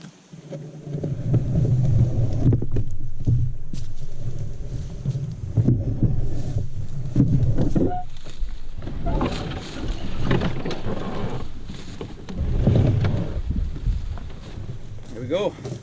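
A solo canoe grinds and scrapes over driftwood skid logs rigged beside a rock during a spring portage, a steady rough rumble close to the mic with wind noise and bumps throughout.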